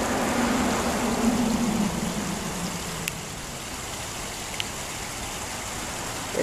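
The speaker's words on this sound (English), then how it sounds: "There's the waterfall." A waterfall heard as a constant broadband rushing roar that carries steadily through the whole stretch, with no clear voices over it.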